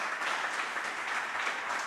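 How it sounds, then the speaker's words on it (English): Soft, steady applause from a gathered audience at a meditation service, an even wash of many hands clapping heard at a distance and fairly quiet. "we can give them a hand here, clap there"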